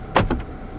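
Electronic gear shifter of a 2022 Kia Stinger GT2 being operated inside the car, two quick close mechanical clicks in succession followed by quiet cabin, no talking.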